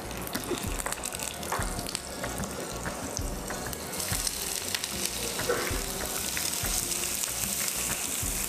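Onion sizzles in a pan with whole spices (bay leaf, cloves, black pepper and black cardamom), a steady, close, crackling fry that grows brighter and busier partway through.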